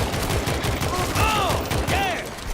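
Gunfire in the zombie shooter World War Z, in a New York tunnel level, comes as rapid overlapping bursts of shots with metallic game effects, while voices briefly call out.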